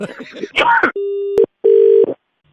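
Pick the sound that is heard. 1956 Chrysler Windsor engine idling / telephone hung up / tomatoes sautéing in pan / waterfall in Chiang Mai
telephone hung up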